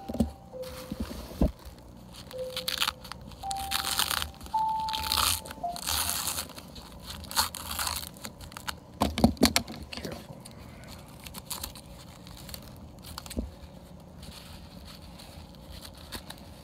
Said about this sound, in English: They say to take the painter's tape off when it's slightly wet.